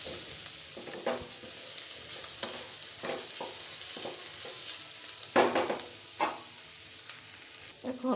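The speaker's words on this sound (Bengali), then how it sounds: "পেঁয়াজটা দিয়ে ভালোভাবে আর 2 থেকে 3 মিনিট ভেজে নেব" Onions frying in oil in a pan, with green chilies added, crackle in a steady sizzle while a utensil scrapes and stirs in irregular bursts, close and moderately loud.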